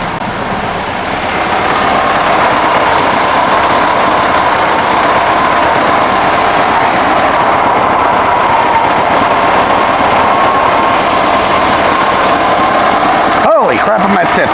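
Air-cooled engine of a 1965 VW Bus turning over and settling into a loud, steady idle that runs close and continuous for over ten seconds before cutting off abruptly near the end.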